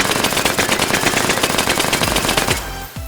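A P90 firing full auto in H3VR, a loud, fast, unbroken burst of shots that stops abruptly near the end, followed by a couple of metallic clanks.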